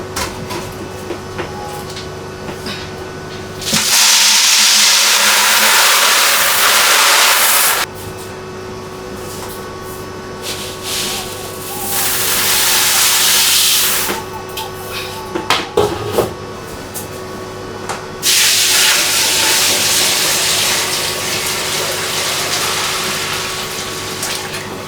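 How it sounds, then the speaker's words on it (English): Water gushes from a tap or hose onto dry corn set to soak for pap, loud rushing bursts start and stop several times with quieter stretches and some knocks in between. "So I'm done adding water to the corn."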